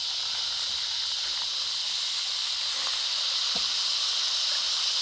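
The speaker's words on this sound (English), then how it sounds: "I'm gonna remove it from the pan and put it on the actual grill itself" Fish cooking over a campfire grill outdoors at a lake state park, a continuous even hiss of sizzling with a couple of faint pops, close and steady, with no voices.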